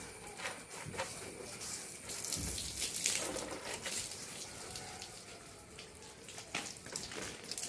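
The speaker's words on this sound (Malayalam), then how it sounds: "അപ്പോൾ നമുക്കൊന്ന് വെള്ളം ഒഴിച്ച് കൊടുക്കാം" Water pours and splashes steadily into a basin, a continuous close hissing gush with a few louder surges.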